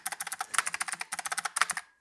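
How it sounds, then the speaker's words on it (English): Rapid clicky keystrokes from a Razer Huntsman V2 Tenkeyless keyboard with clicky optical switches and foam, a steady run of sharp, bright, close clacks with a short pause near the end. "this is the clicky Razer switch, and this sounds much louder and obviously clickier, which is nice for typing"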